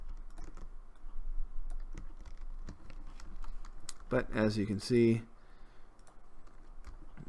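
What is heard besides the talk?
clicking while playing Cities: Skylines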